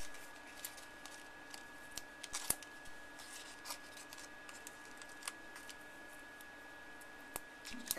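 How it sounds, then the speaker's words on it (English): Scissors trim the edges of a paper card in a quiet room, with a string of small, crisp snips and ticks at an irregular pace, close and faint. "I'm just going to trim off some of the edges here."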